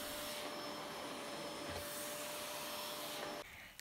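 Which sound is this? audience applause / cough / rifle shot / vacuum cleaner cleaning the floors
vacuum cleaner cleaning the floors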